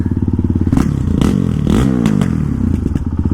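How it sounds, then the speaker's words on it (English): Honda CRF450RL dirt bike with a no-name eBay exhaust and Chinese header, running loud and close with a steady low pulsing thump and a couple of brief rev blips. "And the exhaust sound. Our no-name eBay exhaust with the Chinese header."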